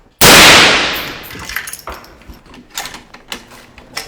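A single sharp rifle shot from Philippine Army special forces soldiers during a close-quarters hunt for ISIS militants cracks out loud and near, then rings off, followed by scattered faint clicks and knocks.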